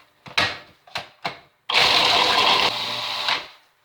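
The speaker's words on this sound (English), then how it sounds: "from here I'm just going to grind this up" A kitchen appliance grinding half a cup of pecans for vegan gingerbread cookies: three short pulses, then a loud sustained whirring run of about two seconds heard up close.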